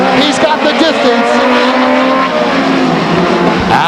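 A race car roars past during a Trophy Dash at Stockton 99 Speedway in 1999, loud and close with a falling engine pitch, while a track announcer talks over it.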